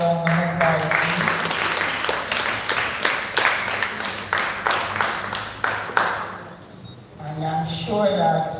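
A round of applause from a congregation at a Baptist church presentation: brisk, many-handed clapping with a rhythmic pulse, fading near the end as a voice and some background tones return.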